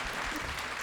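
A brief burst of steady crowd applause at a Bharatanatyam dance program, fairly faint and even, with no speech over it.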